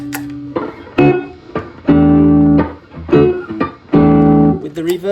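An electric guitar with no reverb plays a handful of struck notes and chords, each ringing briefly and dying away dry, with short gaps between them.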